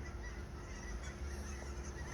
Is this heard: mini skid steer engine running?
no